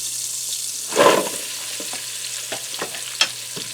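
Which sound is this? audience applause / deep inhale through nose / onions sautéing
onions sautéing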